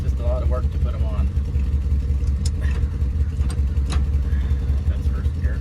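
A 1978 GMC squarebody crew cab truck rumbles along in first gear, a steady low engine drone under light interior noise, close and even throughout.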